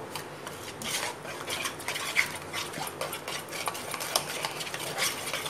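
A spice marinade for chicken 65 being stirred in a bowl, giving a steady run of close wet scraping and rubbing strokes with faint clinks of a utensil, no voices.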